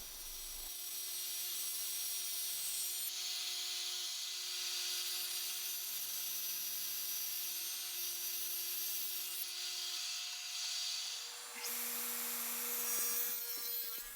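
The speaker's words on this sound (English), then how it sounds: "The fence is also made from 3/4 inch plywood, ripped to size on my radial arm saw." A radial arm saw rips 3/4 inch plywood to size, a steady high whine with rough cutting noise for several seconds, then shifting in tone as the cut finishes, quiet and fairly distant.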